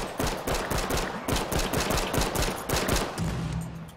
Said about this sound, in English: Oh shit, he's got a shotgun!